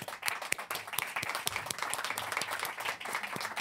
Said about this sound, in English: Please give a warm round of applause for Sophie, Amal, and Pepijn